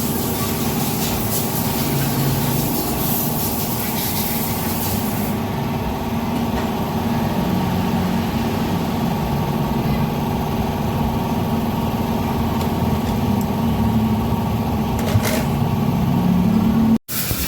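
A Honda Beat FI scooter with a suspected fuel delivery fault is cranked, giving a steady, close mechanical churn that runs unbroken and alone for most of the stretch before cutting off abruptly near the end.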